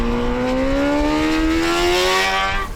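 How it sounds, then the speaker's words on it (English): A 2020 Honda Fireblade SP sport motorcycle engine revs high, climbing steadily in pitch, loud and close, a smooth rising whine with strong harmonics throughout. "Open it up, coming down here, it sounds like a race bike."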